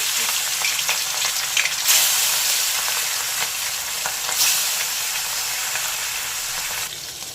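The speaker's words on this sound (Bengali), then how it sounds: "তেল গরম হয়ে গেছে মাছগুলোকে ছেড়ে" Loud, continuous crackling sizzle of phasa fish frying in hot mustard oil, with occasional brief surges and spatters, heard up close.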